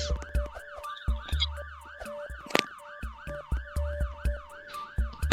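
Police siren in the Roblox Brookhaven video game, a loud wailing tone rising and falling steadily throughout, with a steady hum beneath it and intermittent rhythmic thumps.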